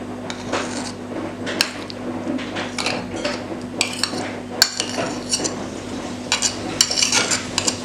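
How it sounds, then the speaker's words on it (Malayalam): Cream cheese goes into a bowl for a carrot cheesecake, with close clinks and scrapes of a spoon or spatula against the bowl in irregular bursts over a low hum; no talking. "ഞാൻ ക്രീം ചീസ് ഇതിലേക്ക് ആഡ് ചെയ്ത് കൊടുക്കുകയാണ്."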